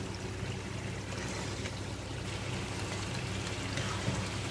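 Meat for a stew frying in hot oil in a pan, a steady dense crackling sizzle held close throughout, with a few louder pops near the end.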